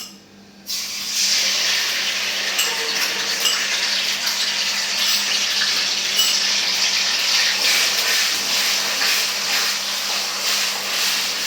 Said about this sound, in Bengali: পেঁয়াজ বাটাটা তেলের উপরে ভেজে নিতে হবে